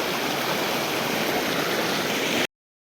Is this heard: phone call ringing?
no